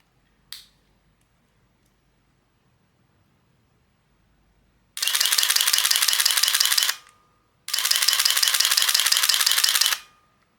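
A Nikon F4 film camera fires its shutter in continuous high mode: two long, dense bursts of rapid mechanical clicks, each about two seconds, close and crisp, separated by a short pause, with a single faint click earlier.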